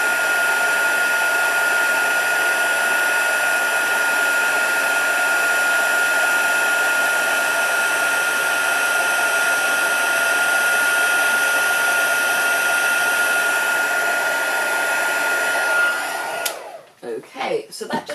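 A heat embossing tool blows hot air onto embossing powder with a loud, steady whirring drone that runs unbroken before cutting off abruptly near the end, followed by brief clattering handling sounds.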